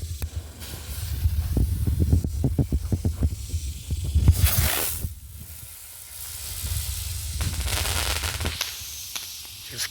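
A crackle firework bursts high overhead, a rapid cluster of sharp popping crackles followed by fizzing hiss, then a second hissing, crackling spell, heard from a moderate distance outdoors.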